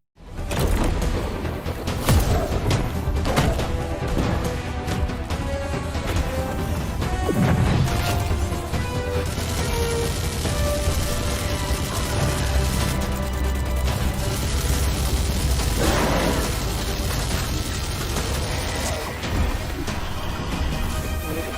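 Dense, loud cinematic soundtrack from the real-time strategy game Stormgate, with repeated gunshot-like cracks and heavy crashing impacts layered over continuous music, no pauses.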